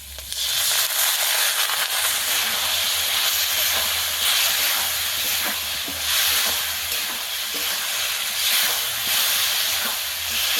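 Spice paste and potatoes sizzling loudly in a pan for a fish curry just after a splash of water goes in, a steady, dense hiss that runs unbroken throughout.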